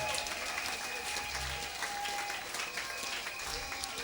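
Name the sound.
congregation applauding in church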